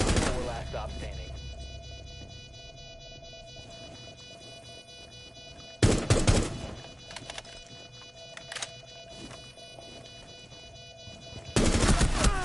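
Bursts of SMG gunfire in the video game Rainbow Six Siege, a loud volley at the start, another near six seconds and a final burst near the end, with scattered game sounds between.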